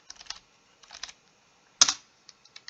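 Keys on a computer keyboard clatter in short bursts as a command is typed into Minecraft Beta 1.2_02, with a louder clack near the end like the Enter key, followed by a few scattered taps, close and alone.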